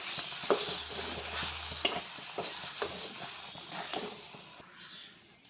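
A prawn and pumpkin curry with coconut and tamarind is stirred in the pan, with rhythmic scraping strokes over a soft simmering sizzle, close and moderately quiet.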